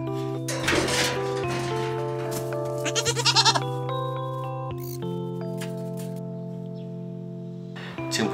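A young goat raised by an elderly woman bleats repeatedly close by, its wavering cries stacking up over a steady background hum, with faint clinks in between and no talking.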